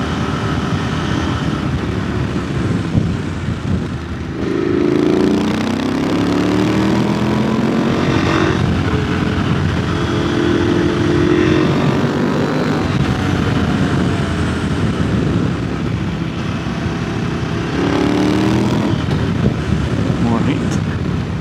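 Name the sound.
KTM 890 Adventure motorcycle riding to scrub in Mitas tyres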